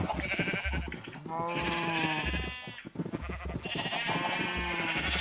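Sheep in Minecraft let out repeated, wavering bleats close by while being sheared. The calls come in several evenly spaced bursts with short gaps, alone and fairly clear.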